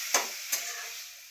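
Fenugreek leaves fry in a pan for methi bhaji, with two quick scraping stirs over a soft, fading sizzle, close and fairly quiet, no talking.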